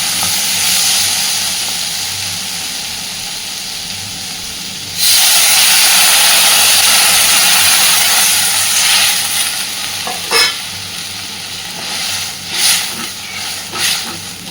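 Water poured into a pan of frying potato curry sets off a sudden loud, broad hiss and sizzle that rises midway and then continues with bubbling and a few sharp spatters, close and dominant.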